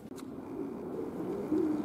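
Pigeons coo softly inside a loft while being driven out, a low murmuring call swelling near the end against faint background noise.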